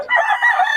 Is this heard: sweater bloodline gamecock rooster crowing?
yes